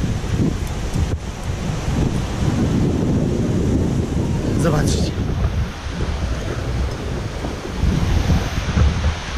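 Ocean surf rolls in near a seaside terrace while gusty wind buffets the microphone, a loud continuous roar with one short spoken word early on.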